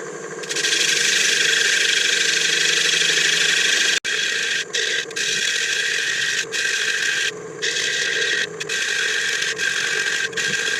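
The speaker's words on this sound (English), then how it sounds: "Let's tighten up the banjo." Steady mechanical whirring from a woodturning lathe while the banjo is tightened, loud and close, with a sharp clunk partway through and several brief dips and rattles in the running hum.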